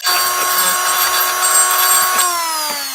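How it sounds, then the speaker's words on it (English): A high-speed Dremel rotary tool whines steadily at close range, a sustained motor drone with a slight drop in pitch toward the end as it winds down. "Oh, that's the newly advanced high-speed Dremel."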